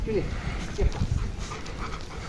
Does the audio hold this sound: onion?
no